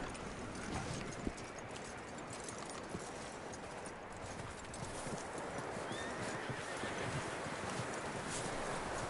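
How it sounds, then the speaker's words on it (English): Horse hooves clip-clop steadily in the Red Dead Redemption video game, with a horse whinnying over the rhythmic footfalls at moderate distance under a dense outdoor ambience. "That looks like a decent horse."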